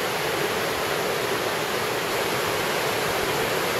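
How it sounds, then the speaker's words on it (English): Bridalveil Falls on the Lake Serene hike roars nearby, a dense, constant rush of heavy falling water at full volume that fills the whole moment with no voices. "Bridalveil Falls comes into view"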